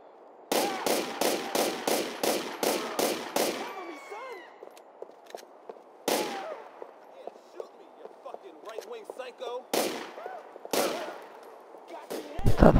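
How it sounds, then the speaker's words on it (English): Gunfire in Grand Theft Auto IV, aimed at the player: a rapid burst of about eight sharp shots, then scattered single loud cracks spaced seconds apart over quieter background game sound. "Crap, now I'm getting shot at, but from where?"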